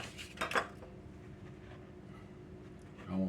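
Evaporated milk and flour being stirred together in a kitchen bowl, with a couple of clinks of a utensil against the bowl and then quieter scraping.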